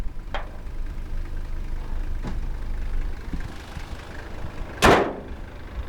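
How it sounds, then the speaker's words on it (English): Hood of a 1990 Toyota Land Cruiser 70-series diesel being lowered, a few light creaks and clicks, then one loud sharp slam as it shuts, close by over a steady outdoor hum. "I'm going to lower the hood here"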